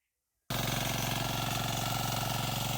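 Power tiller mini tractor engine starts abruptly after a moment of silence, then runs loud and steady with a rapid, even chugging pulse, close by, with no voices.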